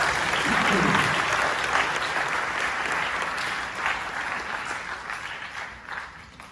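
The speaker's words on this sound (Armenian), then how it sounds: "Եկեք ծափահարենք" A large indoor crowd applauds union activists at a community gathering, dense sustained clapping that stays loud throughout and eases only slightly toward the end.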